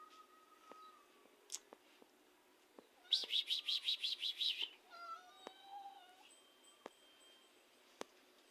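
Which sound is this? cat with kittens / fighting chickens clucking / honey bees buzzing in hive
cat with kittens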